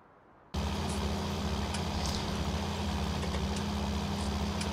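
A John Deere 6800 tractor from 1993–1997 in Farming Simulator 19 starts up abruptly after a short quiet moment, then runs at a loud, steady, low engine drone.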